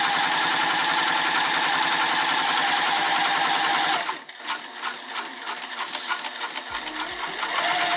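A sewing machine runs a long basting stitch at 4.5 to 5 stitch length about 1/8 inch from the fabric edge of a bag; a steady, loud, fast whirring rattle stops at about four seconds, then lighter handling noise follows.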